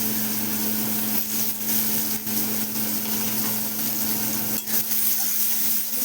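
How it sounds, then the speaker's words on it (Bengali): Onion fries in hot oil after fish in a Bengali home kitchen, a steady, loud sizzle with a constant low hum and occasional stirring scrapes. "ভালো করে হালকা করে ভাজা করে নেব পেঁয়াজটাকে।"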